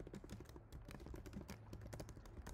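Typing on a computer keyboard, with quiet rapid keystrokes clicking close by in a steady irregular run with no pauses.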